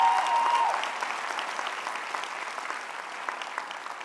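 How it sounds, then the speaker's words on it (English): Large commencement audience cheering and applauding for graduates' parents, dense steady clapping that starts loud and eases slightly, filling the hall with no speech over it. "go ahead, you can cheer for parents."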